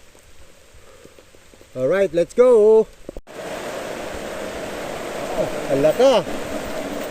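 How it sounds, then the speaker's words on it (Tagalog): Heavy rain pours steadily on a mountain trail, a continuous dense hiss filling the air after a brief burst of shouted voices, with people talking faintly under it. "lalong lumakas ang ulan"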